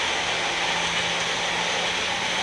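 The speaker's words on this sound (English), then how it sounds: "So hold on, another blender dance." A Vitamix blender churns chocolate pudding in a kitchen, a steady, loud, dense whir with a constant motor hum and no pauses.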